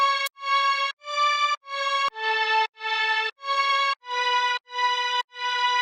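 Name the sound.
layered string, piano and synth lead melodies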